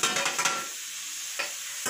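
Potato pieces fry in a pan on the stovetop for aloo bhaja, a faint steady sizzle with a few stirring scrapes near the start and another brief scrape later, no voices.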